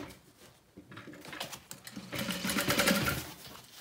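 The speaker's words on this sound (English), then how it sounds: "now we're gonna sew the other end of the bag" A sewing machine stitches along the end of a handbag, a steady whirring run that builds louder through the second half, with no talking over it.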